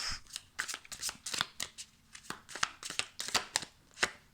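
A deck of tarot cards is shuffled by hand, giving quick, close, crisp riffles and flicks in an irregular rhythm, with no voice.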